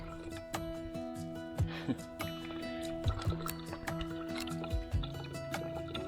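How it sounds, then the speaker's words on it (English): Soft water drips plop at irregular intervals, a few seconds apart, through a water filter at a campsite, over a steady tonal background hum. "we are filtering good fresh water now."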